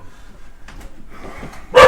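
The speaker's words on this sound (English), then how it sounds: "That's a damn dog." A single loud dog bark bursts out near the end, close and sharp, after a stretch of quieter indoor background noise.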